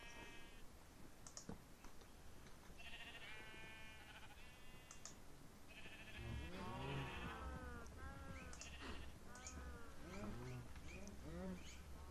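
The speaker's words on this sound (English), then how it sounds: "let's just head up here and have a look at our sheep to see if they start feeding." Sheep in the Minecraft Tekkit modpack bleat several times in overlapping calls, with clicking and faint bird-like chirps in the background.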